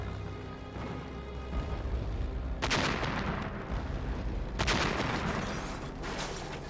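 Bombs exploding across the Pearl Harbor Naval Base in Hawaii during the Japanese air attack, heard as two heavy booming blasts over a continuous rumbling din of distant fire and destruction.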